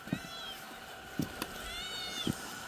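A kitten on a farm meows three times, short high cries spaced about a second apart, close and clear over a steady background hum.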